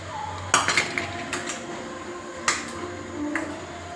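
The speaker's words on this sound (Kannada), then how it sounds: "ಚಂದಾಗ ಹೊಂದ್ಕೋಬೇಕೆಲ್ಲ ಅದಕ್ಕೆ ಹಂಗೆ ತಿರುವಾಡ್ರಿ" Boiled chicken gets stirred into curry masala in a pot at home: a spoon clanks and scrapes against the metal in a few sharp knocks, with quieter taps between them and no talking.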